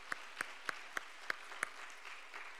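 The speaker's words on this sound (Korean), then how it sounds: "이 기도에 응답하실 하나님 앞에 감사의 박수 한 번 더 드리겠습니다." A church congregation claps after a prayer at a Friday night service, six sharp, evenly spaced unison claps, then a faint lingering murmur as the rhythm stops.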